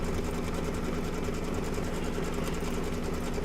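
An embroidery machine runs a satin-stitch underlay for an in-the-hoop cake shop project, giving a steady, even mechanical whir with a rapid needle rhythm that carries on unbroken with no talking.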